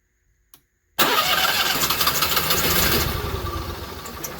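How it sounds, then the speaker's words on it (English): An Onan generator engine is silent at first, with one faint tap, then fires at about one second and roars into steady, loud running close by, easing slightly toward the end. "let's see if we can't prime it up and get it to start"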